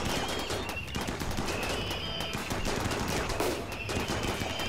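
Colonists open fire in the Rimworld video game, dense rapid gunfire that keeps going without a break for several seconds, with no talk over it.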